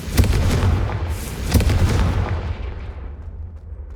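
A Confringo fire spell explodes in Hogwarts Legacy with a loud booming blast, a second burst around a second and a half in, then a rumbling decay fading out with no talking.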